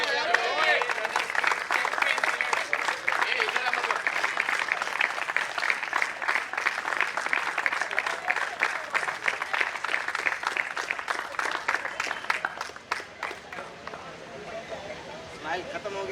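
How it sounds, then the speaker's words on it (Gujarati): A crowd at a cricket league prize distribution ceremony claps steadily for the runners-up captain, a long, dense, rhythmic round of applause that eases slightly near the end, heard from a moderate distance. "જોરદાર તાળીઓ."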